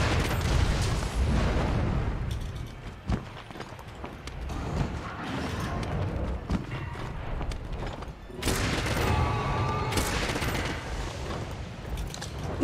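Gunshots in Monster Hunter World, a few sharp cracks scattered among clattering footsteps and busy battle noise, with a denser burst of action toward the end.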